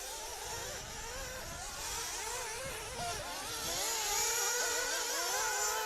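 Nitro-powered 1/8 scale off-road RC cars racing at a European Championship track, one coming over a jump toward the listener; a continuous high, buzzing engine whine rises and falls as throttle changes, growing louder and closer, with no talk.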